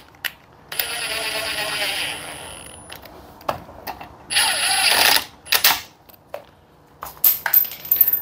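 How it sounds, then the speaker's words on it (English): Impact driver running a small bolt into a 1970s Massey Ferguson 253 rototiller: short whirring and rattling bursts with clicks and clatter, close by, separated by quiet gaps. "I know you shouldn't be using impact going on that small of a bolt there"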